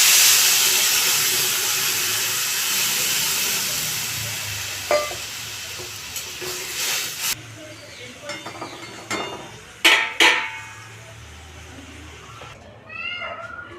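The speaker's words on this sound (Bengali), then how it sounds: "এবার জল দিয়ে দেবো।" Water is poured into a hot cooking pan of frying vegetables with turmeric and salt, bringing a loud hissing sizzle that gradually fades, followed by a few scattered clinks and stirring knocks.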